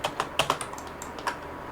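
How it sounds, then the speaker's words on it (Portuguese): Keys pressed on a computer keyboard during 3D modelling work: a handful of light, close plastic clicks in an uneven cluster, then a couple of single taps, quiet and without speech. "Aperta Delete no seu teclado."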